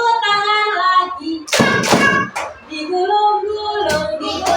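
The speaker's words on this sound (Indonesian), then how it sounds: "tepuk tangan lagi" A few quick bursts of children clapping hands in a classroom action song, two close sharp claps and a later one, set between stretches of sung children's voices.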